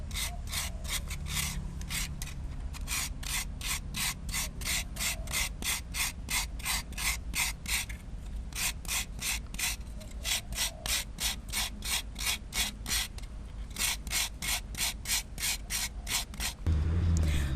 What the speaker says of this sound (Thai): แล้วก็ขูดแบบนี้นะคะ ใช้มะพร้าวทึนทึกนะคะ